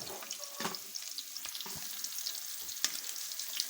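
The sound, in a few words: stirring fried rice with spice in a pot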